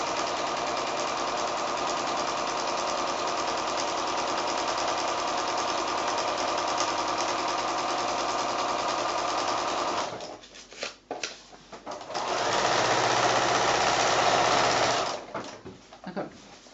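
A sewing machine stitches a foundation-pieced quilt seam, its steady mechanical whir running continuously for about ten seconds, then stopping briefly in a few stuttering bursts before a second sustained run and a final short stop-start.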